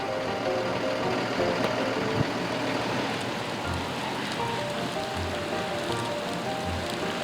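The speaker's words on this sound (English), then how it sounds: "it's raining today and we need the rain" Steady rain falls in an even, continuous hiss outdoors while boarding a mural tour trolley in Ashland, with a low vehicle rumble underneath and no talking.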